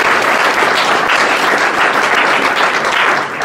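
Loud, dense applause from a game-event audience, many hands clapping continuously and close up, with a few faint voices underneath.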